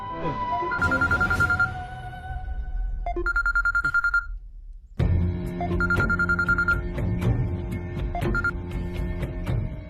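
A telephone rings loudly in repeated electronic trill bursts, broken by a short pause before the ringing resumes over a bed of background music.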